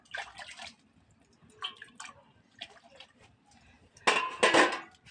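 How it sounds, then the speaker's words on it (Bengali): Bowlfuls of water are poured into a kadai on the stove to boil small potatoes, heard as several separate splashing bursts with clinks of the pot and a louder pour at the end. "এই কড়ার মতো চার বাটি জল দিয়ে দেবো"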